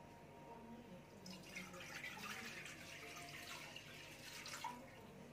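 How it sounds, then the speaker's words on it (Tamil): Water is poured into a pan for boiling French fries in a kitchen, a faint steady splash and trickle that builds after a quiet start and runs to the end. "ஃப்ரெஞ்ச் ஃப்ரை வேகத்துக்கு தேவையான அளவு தண்ணி ஊற்றிக்கோங்க."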